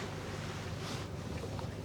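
Strong cold night wind outside at the 360 view in Malico, Pangasinan: a continuous, rushing buffeting blows across the microphone, fairly faint and steady, with no voices.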